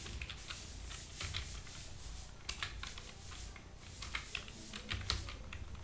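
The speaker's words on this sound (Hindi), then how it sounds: "अब यहाँ पे सेल नंबर टाइप करेंगे" Fingers tap out a formula on a computer keyboard while working in a spreadsheet, a steady stream of soft, quiet key clicks with irregular rhythm and no voices.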